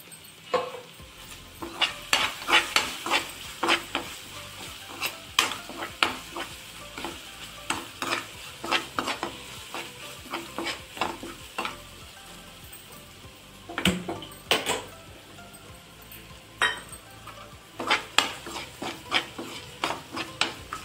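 Green chilli paste with turmeric and asafoetida fries in a pan while a spoon scrapes and stirs it in irregular bursts, a soft close sizzle beneath the clatter, with no talk.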